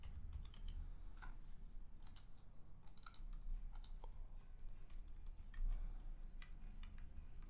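Quiet typing on a computer keyboard, a soft patter of scattered clicks and short bursts with no one talking.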